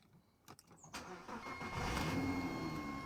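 A Porsche Cayenne with a known engine fault is started after a few faint clicks, the cranking catching into a steady, fairly quiet idle heard from close by.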